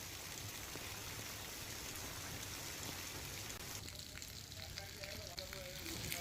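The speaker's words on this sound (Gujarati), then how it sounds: "વરસાદ વરસતા રોડ રસ્તા પર પાણી વહેતા થયા" Heavy rain pours steadily onto roads, with water running along the streets; a dense, continuous hiss holds throughout at an even level, with faint tonal sounds joining in the second half.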